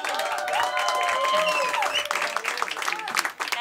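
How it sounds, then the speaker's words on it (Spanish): Studio audience at an Argentine comedy talk show applauding loudly and steadily, with a few cheers and voices rising through the clapping before it thins out near the end. "Pido un aplauso muy fuerte"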